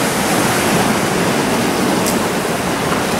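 Rushing, foaming water churns loudly and steadily at a sanatorium grounds in Zakarpattia, a continuous broadband roar close by with no talk over it.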